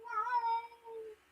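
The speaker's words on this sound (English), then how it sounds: "My cat wants to go out." A house cat at the door gives a single clear, drawn-out meow up close, wanting to be let outside, alone without talk.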